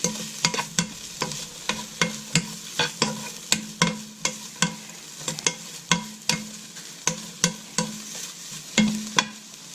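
Stir-frying a South Pacific stir fry in a pan, with a spatula scraping and clacking against the metal in a steady rhythm of sharp strokes over a continuous sizzle, close and fairly loud, with no talking.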